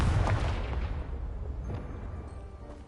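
A Confringo spell blast in Hogwarts Legacy, heard as a loud booming explosion right at the start that rumbles and decays into a lingering low roar with scattered debris crackles.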